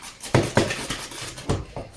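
A whisk knocking and scraping in a bowl of apple cake batter, a few uneven clinks and taps spaced apart, close by, with no one talking.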